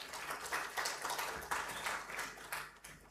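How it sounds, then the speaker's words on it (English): An audience at a high-level stakeholders' dialogue on elections in Uganda claps for the attending government agency representatives: a soft, steady patter of many hands at a distance, with no talk over it. "May I invite you to actually clap for them for joining us."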